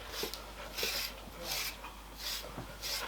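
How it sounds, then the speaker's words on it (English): Stripping comb drawn through a Labrador's coat in five regular rasping strokes, close and steady with brief pauses between each pull. "you get a stripping comb like this and you do this until your arm falls off"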